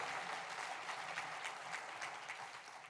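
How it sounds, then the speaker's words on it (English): Conference audience at an airport business general session breaks into applause, a steady wash of many hands clapping at moderate distance, sustained evenly for a few seconds with no speech over it. "Let's give Courtney a round of applause"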